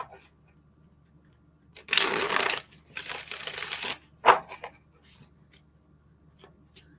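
Tarot cards being shuffled during a live reading, two short bursts of riffling close by, then a sharp tap and faint handling in an otherwise quiet room.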